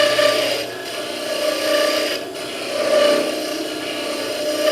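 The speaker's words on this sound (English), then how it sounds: "why are you hogging out so much wood with that little skew?" A small skew chisel hogging wood from a spinning hollow Christmas ornament blank on a lathe, giving a steady, close scraping rasp with a constant motor whine and gentle swells as the cut repeats.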